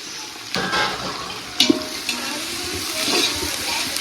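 Sliced onions for mutton biryani sizzle and are stirred in a large pot, a steady close frying hiss broken by scraping and a couple of sharp clanks from the spoon.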